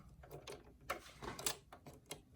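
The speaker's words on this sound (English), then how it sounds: "Put my bobbin in again." A bobbin is fitted into a Singer Classic sewing machine, giving a quick run of small, close-up plastic and metal clicks and rattles, quiet and irregular, with no voices.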